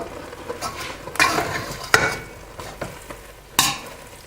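Food being stirred in a pan, with scattered scraping clicks and a few sharper knocks of the utensil against the pan over a soft sizzle.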